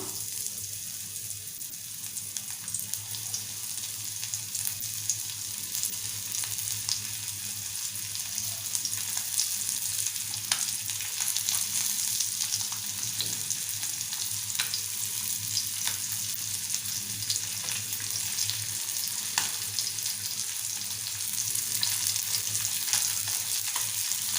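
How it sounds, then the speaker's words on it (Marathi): Mandeli fish dropped into hot oil for a crisp fry, giving a loud, steady, crackling sizzle that runs unbroken throughout over a low kitchen hum. "आपलं तेलही छान गरम झालंय आता आपण मांदिली सोडूया"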